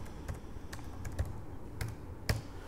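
Keys clatter on a computer keyboard as a project name is typed, a quick irregular run of soft clicks with a few sharper strokes, close and fairly quiet with no talking.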